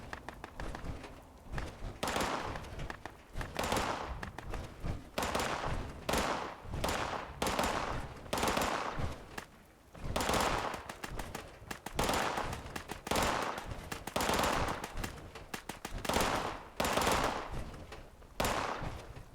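Pistol shots in a video game shooting range, roughly a dozen sharp, loud reports spaced irregularly about a second or two apart, each with a short decaying tail, no talk over them.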